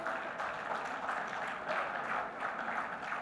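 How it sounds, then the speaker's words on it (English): Audience applause at a maritime industry event after a signing ceremony, a moderate, fairly distant patter of clapping in a large hall that swells and eases slightly, heard without talk. "Big round of applause, ladies and gentlemen."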